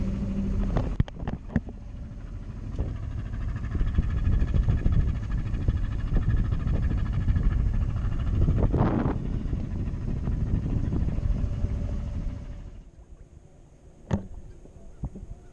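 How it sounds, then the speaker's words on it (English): Continuous rushing wind and water noise aboard a sailboat sailing on Lake Texoma, steady and fairly loud, easing off near the end. "We're sailing on Lake Texoma."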